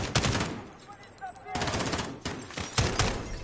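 Repeated gunshots and short automatic bursts from Call of Duty Modern Warfare, loud and sharp with brief gaps between volleys, while someone talks in French underneath.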